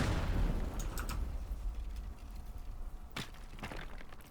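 Bombs going off in the destruction game Teardown, a loud blast at the start rumbling away, followed by scattered cracks and a sharp burst near the end, fairly distant and without talk.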